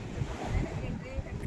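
Arabian Sea waves at Devbag, Sindhudurg, heard from a boat near a river mouth, a steady broadband wash of surf mixed with gusty wind buffeting the microphone throughout.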